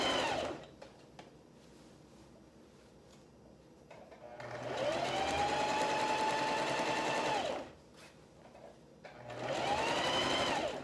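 Sewing machine stitches quilt fabric in two close, steady runs of whirring with a rising and falling motor tone, separated by a quieter pause and ending as a third run starts.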